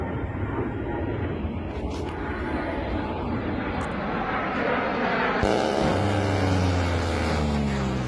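A-10 jet engine in a flight simulation game, a steady broadband roar that swells and deepens midway, with a low droning hum coming in near the end.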